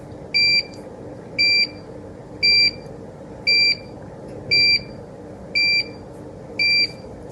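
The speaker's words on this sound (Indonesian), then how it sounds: "karena sudah melewati ambang batas maka buzzer berbunyi" A microcontroller temperature-detector buzzer beeps seven times at a steady, roughly one-second pace, each short high-pitched tone distinct over a low background hum.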